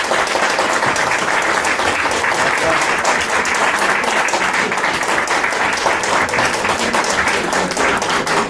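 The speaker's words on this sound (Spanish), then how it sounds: "Bueno, un aplauso." A loud, sustained round of applause from the audience at a book presentation, with dense clapping holding evenly throughout and no break.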